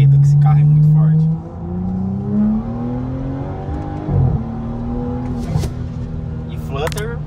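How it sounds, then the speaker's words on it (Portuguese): Powerful turbocharged car accelerating hard in a street race, loud rising engine tones with a fluttering turbo whoosh and sharp chirps, up close, as a voice talks over it. "E flutter moendo."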